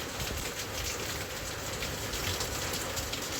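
Heavy rain driven by wind pours onto a rooftop, a dense, steady hiss of countless drops that stays loud and even throughout, with no voices.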